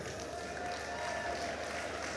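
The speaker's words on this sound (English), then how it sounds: "I think every man here should clap for every woman here." Conference attendees at a women and youth empowerment event clap together in a continuous wash of applause, fairly distant and soft, steady from start to finish.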